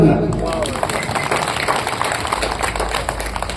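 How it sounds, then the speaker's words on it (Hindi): An audience claps at a Hindi poetry recital, a dense crowd of applause right after a brief voice at the start, then continuing steadily and evenly throughout. "एक बार ताली भाई"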